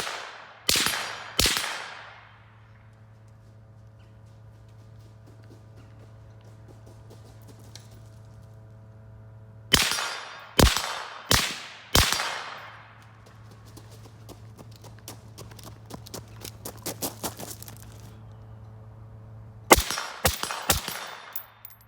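A firearm fitted with a Surefire Monster suppressor is shot in separate bursts of two or three sharp, muffled cracks, each with a short fading tail. Clattering and a steady low hum fill the gaps between the bursts.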